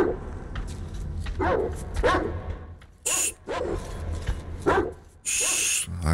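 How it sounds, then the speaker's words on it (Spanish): Barking dogs in the video game Metro Exodus, set by the Caspian Sea, with repeated close, loud barks and yelps arriving in uneven bursts over a low rumbling game backdrop, along with a couple of sharp high-pitched noise bursts. "Uy, un puto perro."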